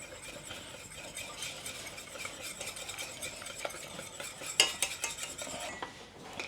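A spoon stirs nutmeg into a mixture in a bowl, making quiet, repeated scraping and light clinking, with a sharper clink near the end.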